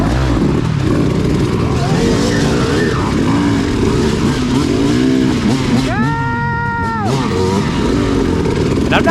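Several trail race motorcycles rev and rasp loudly behind a rider on a wooded course, engines rising and falling impatiently, with someone talking over the steady engine noise.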